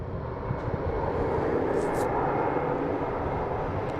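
A UPS cargo plane braking after touchdown at Boston Logan gives off a loud, sustained, rumbling engine roar that spreads wide and stays constant, with a voice talking over it.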